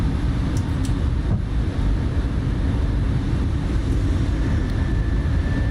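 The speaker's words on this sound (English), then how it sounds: "Positive climb, gears coming up." Airbus A320 jet engines roaring steadily during climb-out after takeoff in Microsoft Flight Simulator, a constant broad rumble and hiss with a faint tone rising partway through.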